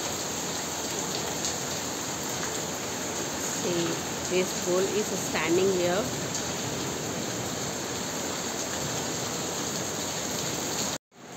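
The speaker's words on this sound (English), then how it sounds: "See how much heavy rain is dripping down." Heavy rain pours steadily as a dense hiss throughout, with someone speaking briefly over it midway.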